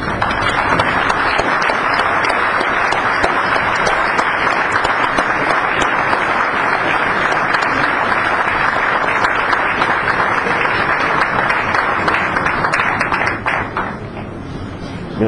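Sustained applause from an audience at a book dedication in a hall, dense steady clapping that carries on loud and even before tapering at the end.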